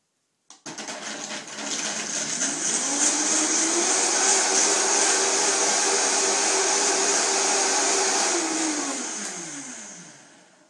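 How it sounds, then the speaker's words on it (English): A blender whirs loudly and steadily through a batch of raw chocolate mixture, starting with a sharp click, holding a dense high-pitched roar for about nine seconds, then winding down to a stop. "So I will blend this recipe for 1 minute."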